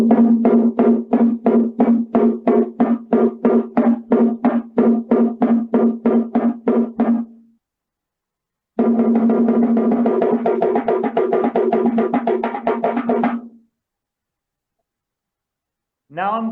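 A voice imitates a maracatu snare drum pattern played straight without swing, in rapid, even, loud strokes over two phrases with a pause between them.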